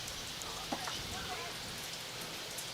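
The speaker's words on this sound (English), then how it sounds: "Loves the rain." Rain falls steadily on an outdoor lawn bowls green during a state championship, making a soft continuous hiss with scattered faint drops, with no clear voices.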